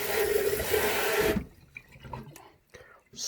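Tap water running over Goya lentil seeds in a container for sprouting, a steady splashing rush for just over a second that then stops, followed by light drips, clinks and handling sounds.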